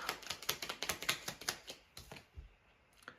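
Tarot cards being shuffled by hand: a quick run of soft, crisp rhythmic flicks and snaps, close and fairly quiet, slowing to a few scattered taps at the end.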